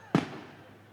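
A single firecracker bursts at a public gathering, one sharp, loud bang followed by a short fading tail, then quiet background.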